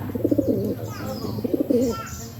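Soft, throaty cooing of pigeons in two short rolling phrases, close by, with faint background noise.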